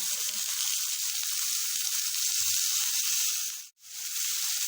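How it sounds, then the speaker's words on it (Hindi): Green chillies and radish frying in hot oil in a pan, giving a steady loud sizzle and hiss that runs almost the whole time with one brief dip, close up and with no talk over it. "इनको 2 से 3 मिनट तक फ्राई करना है"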